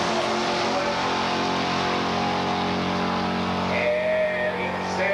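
A 1985 muscle car on a drag strip at Beech Bend, a loud sustained engine roar at full throttle passing through the traps, the pitch holding high and then shifting as it moves away.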